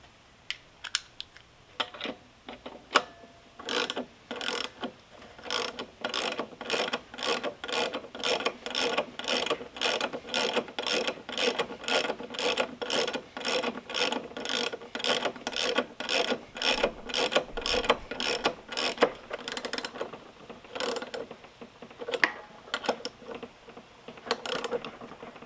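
A short wrench tightens a nut on a Toro Timemaster mower's blade belt drive, clicking in a long steady run of sharp ratcheting ticks, moderately close and alone with no talking.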